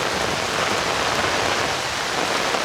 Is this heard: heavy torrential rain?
yes